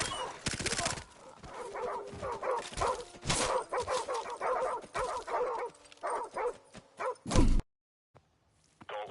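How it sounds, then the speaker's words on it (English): A wild dog in the video game MWR barks, yips and whimpers in rapid, repeated bursts that are loud and close, broken by a short silent gap near the end. "Leave it alone. It's a wild dog."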